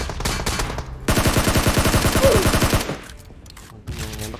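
A rapid, steady burst of automatic gunfire rattles loudly for about two seconds in a battle royale game, preceded and followed by softer shots and in-game noise.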